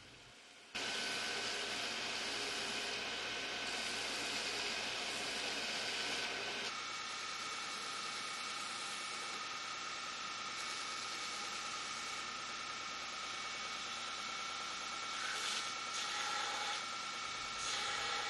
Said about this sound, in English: Grinding and blending the interior or bottom surfaces of the handle requires very flexible J-weight belts.